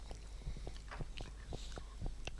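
Someone chews a Chinese mooncake filled with egg yolk and nuts, producing soft, close, rhythmic bites and mastication clicks, quiet and repeated over a couple of seconds.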